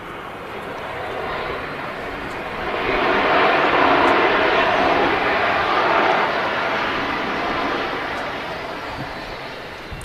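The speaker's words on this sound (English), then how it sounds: "BizJet coming in now. Greasing the tarmac there." A business jet touches down on runway 23 right, a broad engine roar rising to a peak and then fading slowly as it rolls out, loud and sustained.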